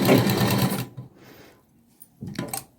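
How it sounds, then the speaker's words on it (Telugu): A sewing machine stitches a blouse sleeve in one loud, steady burst that cuts off, followed by quieter handling noises and a short second burst of stitching. "ఇలా సూది దించి ఒకసారి ఇటు సైడ్ కూడా తిప్పుకుని స్టిచ్ చేసుకుందాం"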